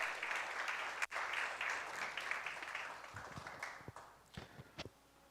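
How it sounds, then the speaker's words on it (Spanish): A church congregation applauding in praise during a sermon, a dense burst of clapping that thins out and fades into a few scattered, separate claps near the end. "Dale un aplauso al Señor si tú te atreves a creer."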